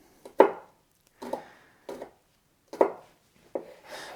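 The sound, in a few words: chopping garlic with a knife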